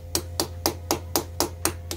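A metal hammer taps lightly on a part during a Suzuki Hayabusa motorcycle build, making eight crisp, evenly spaced strikes close by over a steady low hum.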